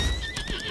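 A horse in the game Lost Ark whinnies in a short rising and falling neigh over a couple of soft hoof clops, close and clear with no talking.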